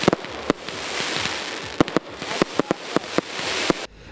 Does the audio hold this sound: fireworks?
yes